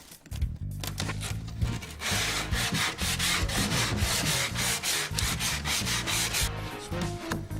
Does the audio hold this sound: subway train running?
no